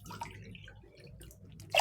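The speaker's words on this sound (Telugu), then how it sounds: "ఈ కప్పుతో మనము 5 కప్పుల వాటర్ వేసుకున్నాము" A cup of water is poured into a pressure cooker pot with rice and moong dal for khara pongal, giving soft close splashing and dripping trickles, with a brighter splash at the end.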